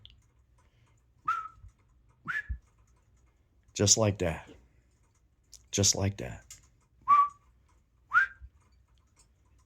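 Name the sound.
human imitating a whistle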